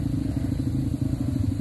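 Motorcycles ride a dirt trail, a low steady engine drone with a faint clattering pulse, heard at moderate distance without any talk.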